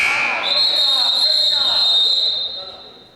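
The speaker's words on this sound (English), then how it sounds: "Not a whistle, but a buzzer." A buzzer sounds from the sideline at a high school girls basketball game in a gym. The loud, steady electronic tone holds for about two seconds before cutting off, while an announcer talks over it.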